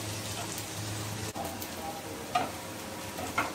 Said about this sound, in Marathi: कांदा टाकलेला आहे, कांदा चांगला भाजू देते।